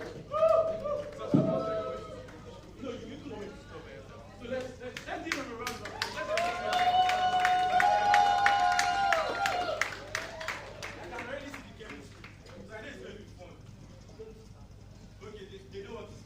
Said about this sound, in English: Let us give them a round of applause so that everybody can see them.